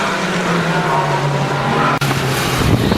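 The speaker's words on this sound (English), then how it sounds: "Just lapping David Jones's Van Diemen." Formula Ford 2000 race cars lap the Brands Hatch GP circuit at a 2015 historic race, a loud, continuous engine drone with a sharp gear-change dip before the note climbs again.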